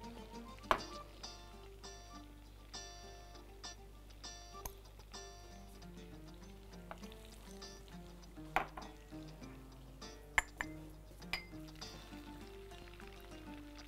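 A spoon scrapes and clinks against a pot while milk, sugar and sahlab are stirred together, giving scattered faint taps and knocks over quiet background music.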